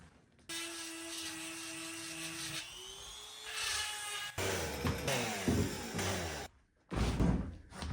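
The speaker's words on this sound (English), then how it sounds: "I got to sharpen my chainsaw" Chainsaw being sharpened at a log cabin build: a high steady whine from a small powered sharpener, then a shifting grinding sequence with clattering bursts and short pauses, close and fairly loud.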